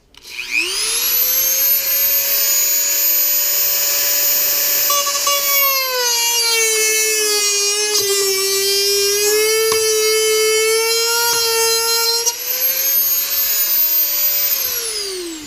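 A Dremel rotary tool cuts into a refrigerator door for a kegerator build, giving a loud, continuous high whine that spins up, dips in pitch under load through the middle of the cut, then rises again and winds down.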